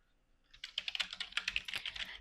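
Quick bursts of keystrokes on a computer keyboard as a description is typed into a Google Form, a close, fairly quiet run of rapid taps lasting under two seconds.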